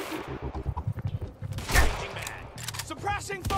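Gunfire in Quantum Break, with scattered shots and a louder blast near the middle under game noise and brief voices, fairly quiet overall.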